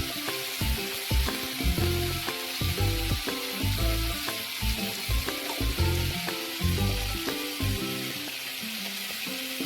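Ground cumin, coriander, chili and turmeric sizzling in a frying pan, a continuous hiss broken by repeated clattering scrapes from stirring.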